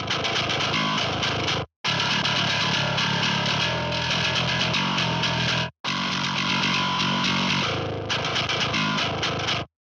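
A thick, gritty distorted synth bass plays sustained notes, loud and dense, breaking off briefly twice before resuming.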